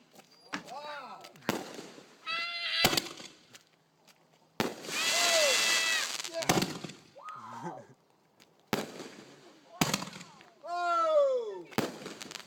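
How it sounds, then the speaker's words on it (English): A first firework lit outdoors goes off in several loud bursts with whistling, crackling trails, separated by short gaps, while nearby people shout and cheer. "What a great first firework."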